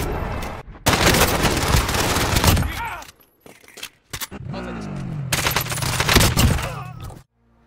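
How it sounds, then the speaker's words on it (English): MP5 submachine gun firing in Call of Duty Warzone: loud, rapid automatic bursts separated by short pauses, ending in silence. "today I'm gonna show you guys the best SMG, the one and only MP5"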